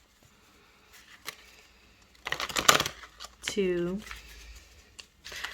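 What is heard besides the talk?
shuffling tarot cards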